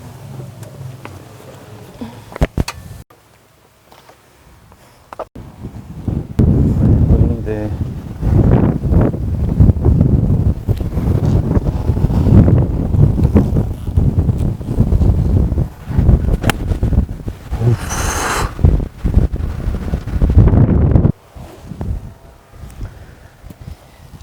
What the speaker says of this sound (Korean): 바람.